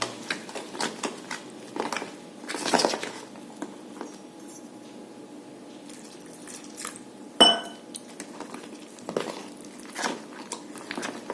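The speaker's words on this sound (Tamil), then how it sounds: "நல்லா கட்டி இல்லாமல் கலந்துக்கணும்." Banana bajji batter of flour and water is stirred smooth in a bowl, giving quiet, intermittent clinks and scrapes of a utensil against the bowl, with one sharper knock partway through.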